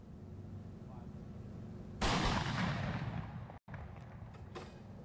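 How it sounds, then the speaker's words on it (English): A ceremonial cannon shot at a 9/11 memorial rings out as one sharp, loud blast that decays over about a second and a half, set against a quieter outdoor background. "That was the second cannon."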